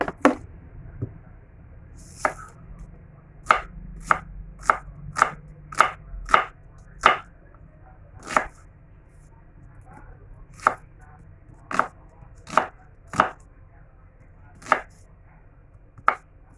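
Onion chopped on a cutting board at home for chicken tinola: about fifteen crisp knife strikes, some in quick runs and some spaced apart, close and clear with no talking.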